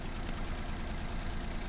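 A Citroen C1, Peugeot 107 or Toyota Aygo engine idles steadily right after a new catalytic converter is fitted, a dense, even running drone close to the microphone with no voices.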